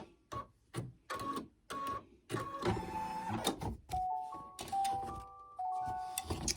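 An embroidery sewing machine stitches a sticky note holder design in the hoop, running in several bursts with short pauses, its motor whirring and shifting pitch as the needle moves between segments, close and fairly loud.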